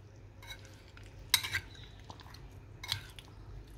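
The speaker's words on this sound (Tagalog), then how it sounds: "And then i-mix lang po natin sila." A utensil stirs brown sugar and sesame oil into a japchae sauce in a bowl, giving a few scattered clinks and scraping bursts, the loudest near the middle, against quiet kitchen background.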